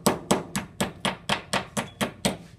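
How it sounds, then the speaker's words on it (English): A hammer strikes an annealed metal sheet being formed into a cylinder, ten evenly spaced ringing blows at a steady rhythm, close and clear with no talk. "I'm hammering it, and I'm kind of moving it into the slot as I shift it"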